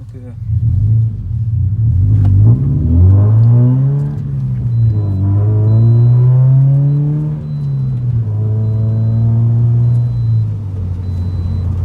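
A Toyota GT86 with a custom half-length exhaust revs up and down, giving a loud, close engine drone that rises and falls smoothly through sustained revs on an empty road.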